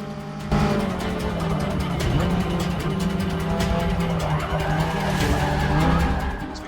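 Race car tyres losing grip in Forza Motorsport 6, a loud sustained squeal with wavering pitch over a steady engine drone, continuous for several seconds with no talking.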